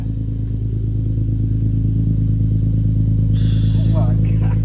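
Infiniti G37 with an ISR single exit exhaust idling loudly with a deep, steady, throbbing drone close by, while a person talks over it near the end.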